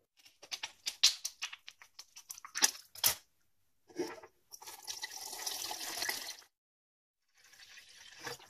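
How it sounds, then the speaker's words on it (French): Water splashes and trickles into the reservoir of a De'Longhi coffee machine in short close bursts, then a longer steady pour, a pause, and a final brief stream, fairly quiet with no talking. "on va le mettre dans le réservoir et on va rajouter un petit peu d'eau"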